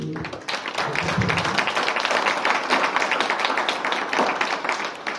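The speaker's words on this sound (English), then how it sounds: "A round of applause to" Enthusiastic applause breaks out at a guide dog graduation ceremony, dense clapping from a gathered crowd that holds steady for several seconds, with a brief voice at the very start.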